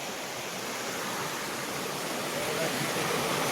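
Clear forest stream water rushes steadily and close by, a dense continuous hiss that swells slightly toward the end, with no voices over it.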